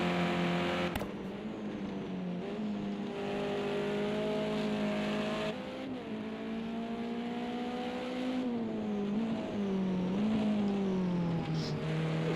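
Touring cars race in the video game Project CARS 2 during a touring car league feature race, with a loud continuous engine drone that rises and falls through gear changes.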